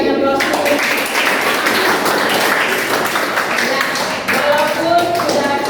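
A classroom group applauds with steady, close, dense hand clapping for several seconds, with voices mixed into the noise.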